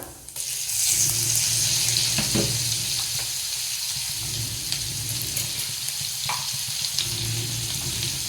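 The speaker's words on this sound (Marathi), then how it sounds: "छान असा लसूण सुद्धा तळला गेला आपला" Crushed garlic fries in hot oil in a pan for a Marathi-style vegetable dish, giving a steady close sizzle with light clinks and stirring, no talk.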